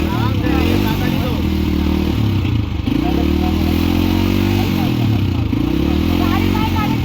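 A motorcycle engine idling and revving gently during a beginner's riding lesson, a close, continuous rumble whose pitch shifts with the throttle. People talk over it throughout.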